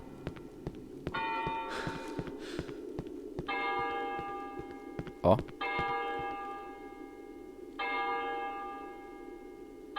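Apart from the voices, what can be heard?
church bell tolling in the video game Cry of Fear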